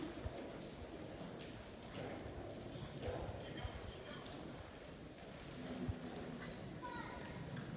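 Hooves of a ridden horse clip-clopping in a steady rhythm at an outdoor event, fairly close, with voices talking over it and a brief whinny-like sound.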